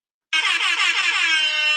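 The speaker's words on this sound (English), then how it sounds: "Followed by an air horn," A quiz sound effect air horn blasts suddenly after a moment of silence, one loud sustained honk held steadily to the end.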